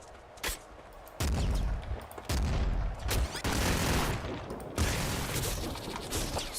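Assault rifle fire from the game Nuclear Throne comes as loud bursts of rapid gunshots, several separate volleys in quick succession with short gaps between them.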